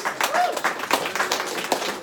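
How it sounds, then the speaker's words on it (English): At a live seminar event, an audience claps for Ron in a scattered, moderately close round of applause with uneven individual claps. "give Ron a round of applause"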